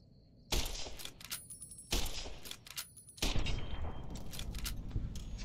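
Gunfire in the video game Fallout New Vegas: three loud, sharp shots spaced over a few seconds, each followed by a ringing tail, with no talking.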